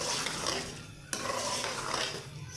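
Vegetables for aloo matar, potatoes and peas, being stirred in a cooking pot, with steady scraping and clinking of a spoon against metal and one sharp knock partway through.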